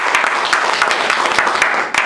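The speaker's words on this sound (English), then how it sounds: "I think I should clap for that" A Toastmasters meeting audience claps briefly for a speaker, a short burst of clustered hand claps with some distinct sharp strikes, fairly close and without talk.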